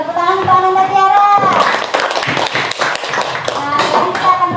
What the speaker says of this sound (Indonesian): Tepuk tangan untuk Ananda Tiara.